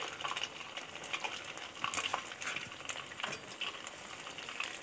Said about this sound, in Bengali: দেখো কীভাবে ভেজে নিলাম পিঠেগুলো।